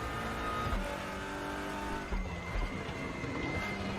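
A GT3 or TCR race car engine held at full throttle in a racing video game at Road America, a steady loud droning roar with a few small bumps in pitch, no talk.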